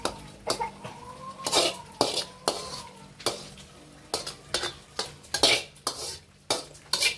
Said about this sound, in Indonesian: itu ikan japunya lagi digoreng nih. Digoreng dulu ikan japunya.